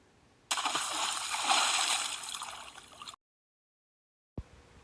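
Children plunge into a bathtub full of water, a loud sustained splash lasting a few seconds before cutting to silence, followed by a faint short sound.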